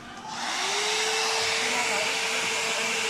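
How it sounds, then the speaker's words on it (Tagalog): A 500-watt hair dryer switches on and runs as a steady, loud whooshing drone with a constant motor whine, powered from a home solar setup, with no talk over it. "Basta 500 watts to mga idol, hair dryer to"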